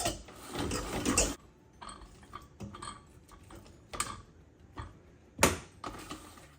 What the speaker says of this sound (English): if you crank backwards, it scrapes them all off